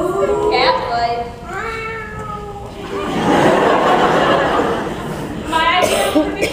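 A human voice imitates a cat's meow, with drawn-out mewing calls at the start and end and a brief chuckle in between, loud and close at a beauty pageant event.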